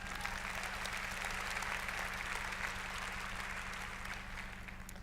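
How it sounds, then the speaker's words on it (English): Steady applause from an audience at a presentation, a dense even patter of many hands clapping that holds for several seconds at a moderate, slightly distant level, with a low constant hum underneath. "So please give yourself a round of applause."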